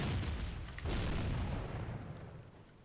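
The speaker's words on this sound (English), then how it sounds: "So I think what we do here is we toss a grenade." A grenade blast in the video game Halo: Combat Evolved, a loud broadband boom with a renewed surge near one second, then a long rumbling decay that fades out alone.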